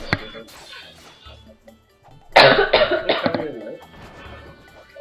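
A loud burst of several rough coughs from one person breaks out midway, with casual talk before and after it.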